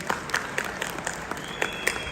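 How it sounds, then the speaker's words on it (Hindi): An audience at an event in Zirakpur claps hard, a dense burst of applause that carries on steadily from near and far seats. "जोरदार ताली होनी चाहिए"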